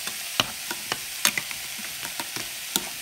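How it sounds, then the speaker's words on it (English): A spoon stirring vegetable soup in a pot: a series of sharp metallic scrapes and clinks at an irregular pace over a soft bubbling sizzle, close and alone. "And then give it a stir."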